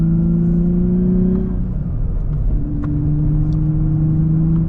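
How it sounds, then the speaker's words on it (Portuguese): A Nissan Z sports car with a V6 engine and manual gearbox pulls hard under acceleration, its steady loud engine note rising in pitch, dipping briefly at a gear change, then climbing again, close and continuous with no talk. "pressionando o pedal do acelerador,"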